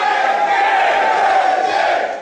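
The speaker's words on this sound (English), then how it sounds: "Crowd breaks out into a Nick fucking Gage chant." A wrestling crowd at an IWA East Coast deathmatch show chants a wrestler's name, a loud, dense, sustained roar of many voices filling the arena without a break.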